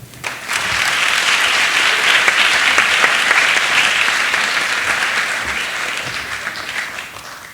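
Theater audience claps warmly to welcome a speaker, a dense, even applause that swells quickly, holds for several seconds, then gradually thins out.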